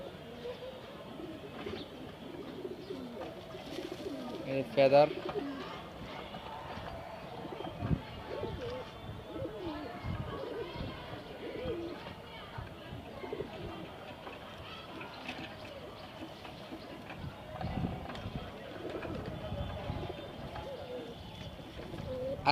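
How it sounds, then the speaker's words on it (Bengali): Soft pigeon coos come and go at a loft, low and fairly quiet, with someone talking over them for most of the stretch and occasional rustling or handling noise. "এই যে কবুতরটা"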